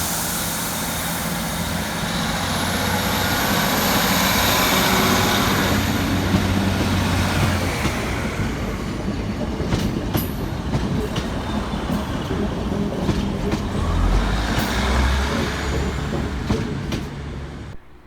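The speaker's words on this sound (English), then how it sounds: "Next out two departures 15123 and 15138, working the 1246 Northern service through to Liverpool Lime Street." Northern trains 15123 and 15138 depart Manchester Oxford Road on the 1246 service to Liverpool Lime Street, a steady, close rolling rumble of wheels and engines sustained throughout, with brief clanks near the end.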